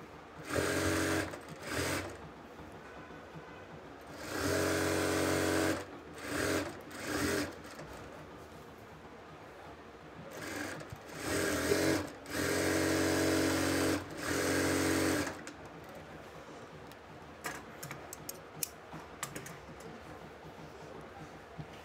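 A sewing machine runs along the hem of a kuchi salwar, leaving a gap for the drawstring, in several close bursts of fast whirring of varying length, with quiet pauses and handling noises between them.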